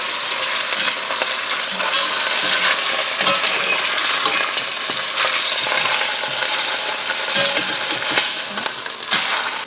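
Beef pot roast sizzles and fries steadily in a Le Creuset Dutch oven as it browns, a dense, continuous crackle with occasional scraping and stirring clicks, no talk.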